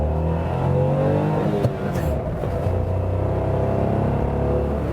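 A Suzuki Celerio's small engine accelerates in a steady, continuous drone with a rising rumble heard from inside the car while it picks up speed, with a brief click partway through.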